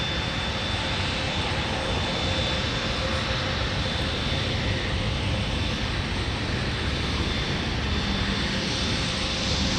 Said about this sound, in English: We have a taxiing 717 in the foreground, out of picture.